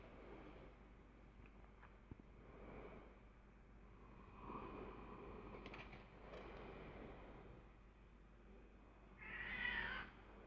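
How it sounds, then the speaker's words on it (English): A pet cat named Misty lets out a single faint, drawn-out meow late on, distant indoors over a quiet room hum. "Might hear my kitty Misty yelling in the background"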